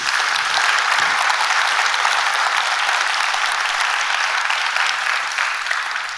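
A conference audience at a session on inclusive planning and design for healthier cities applauds loudly and steadily, a thick, even roar of many hands clapping that eases slightly at the end.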